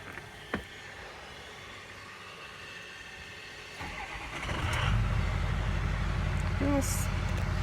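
A truck engine cranks and catches partway through, then settles into a loud, steady running rumble after a quiet stretch with one sharp knock near the start.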